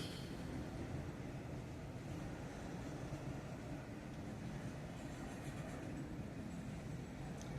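Freight train cars, including a heavy-duty flat car on four trucks, rolling past in a continuous low rumble and hiss, steady and fairly distant with no distinct clanks.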